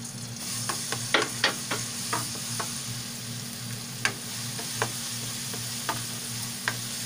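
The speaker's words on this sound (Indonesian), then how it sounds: "gisa natin yung bawang" Garlic sautéing in olive oil for a creamy carbonara sauce, a steady close sizzle with a series of sharp utensil scrapes and taps spaced through it, no speech.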